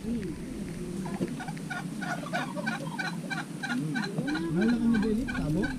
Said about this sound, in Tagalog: Pabo.